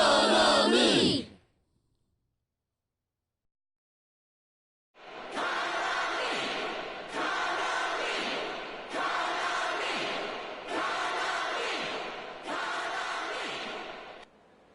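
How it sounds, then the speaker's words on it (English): Crowd of fans cheering and chanting in the rhythm game Persona 4 Dancing All Night, a loud burst of noise repeating in five surging waves after a brief silence. "The crowd's going wild for some reason."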